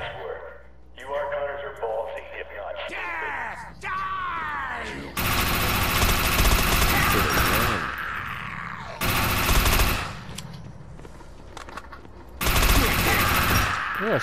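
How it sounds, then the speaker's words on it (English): Shotgun blasts in the shooter game Defiance 2050 come in loud bursts of gunfire amid game effects, with a voice talking over the early part. "Yeah, shotgun."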